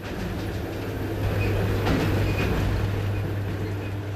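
A Trans-Siberian Railway train runs across Siberia with a loud, steady rumble and low hum, while faint rhythmic clacks of the wheels on the rails run through it.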